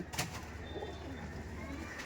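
Punjabi baby pigeons coo softly in a loft, a faint low murmur close by with one sharper sound at the start and a steady quiet background.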